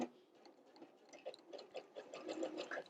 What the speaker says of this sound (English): I have just the basic universal foot and I'm going to start stitching.